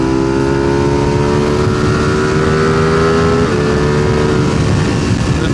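A Ducati Panigale V2 engine drones steadily and loudly during a ride, with a smooth, even tone that shifts slightly in pitch and wind rushing throughout.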